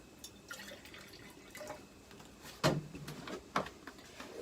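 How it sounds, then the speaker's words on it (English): Water is poured into several glass jars in a kitchen, giving quiet, intermittent splashing and trickling with a few sharper drips and clinks as each jar fills. "Add about an inch or a little more of water in every single"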